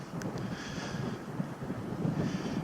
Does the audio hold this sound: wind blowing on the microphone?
yes